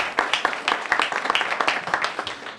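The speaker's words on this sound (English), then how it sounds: "But please give him a round of applause for Raul Dennis." A small audience at a tribute presentation claps briskly and fairly close, the individual hand claps distinct and slightly uneven in rhythm, a short burst of applause without cheering.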